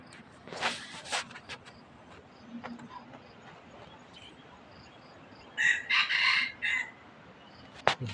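A rooster crows loudly nearby in a long, rising call, with quieter clucks and crowing before it against a hushed outdoor background.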